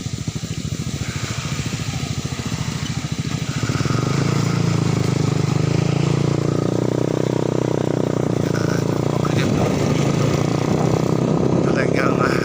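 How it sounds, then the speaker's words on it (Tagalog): Three motorcycles ride past on a road trip toward Biñan, Laguna, their engines making a loud, continuous close drone that swells after a few seconds and stays steady, with talk alongside. "Tatlong motor."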